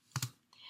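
Keyboard typing while entering student notes: two quick close key clicks followed by a faint softer tap, quiet and isolated with no talking.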